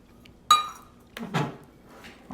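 Sugar poured onto butter in a mixing bowl gives a sharp clink of utensil against bowl, then a couple of softer scraping, pouring rustles, close and quiet.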